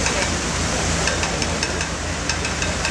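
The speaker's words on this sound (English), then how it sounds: "you have the weir on the other side to regulate the water level." Water pours over a weir beside the narrow Regent's Canal, a steady, even rushing roar that fills the whole clip without a break.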